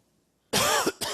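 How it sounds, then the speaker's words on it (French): A single sharp cough breaks the silence, followed by a brief second burst close to the microphone, with no talking. "Vous allez m'entendre tousser une fois de temps en temps."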